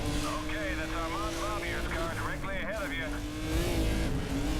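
A Lamborghini race car in Race Driver: GRID roars close by, its engine pitch climbing and dropping through gear changes as it races, while someone talks over it.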